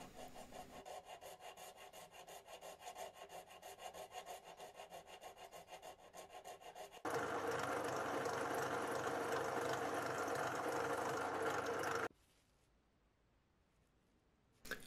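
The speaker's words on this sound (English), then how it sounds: "I'm just using the sanding drum I'm going to use in a bit for reference" A sanding drum whirs and rasps against a wooden flute, first with a rhythmic scraping, then a louder steady grinding that stops abruptly near the end.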